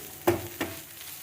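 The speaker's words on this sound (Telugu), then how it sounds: "ఇప్పుడు కరేపాకు వేసుకున్నాను ఒక రెండు నిమిషాలు వేయించేసి" Curry leaves dropped into a pan with bitter gourd give two quick sizzling bursts, each crackle flaring up and then settling into a faint, steady frying hiss.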